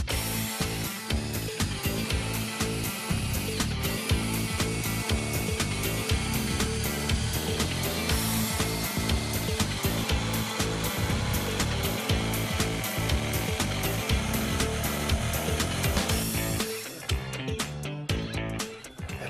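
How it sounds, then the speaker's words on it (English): A power jigsaw cuts a sink opening in a wooden kitchen worktop in an old cottage, a loud continuous rasping buzz that runs steadily for about seventeen seconds before stopping abruptly. "by drilling 4 holes, 1 at each corner of the sink, you don't then have to go around a tight curve with the jigsaw"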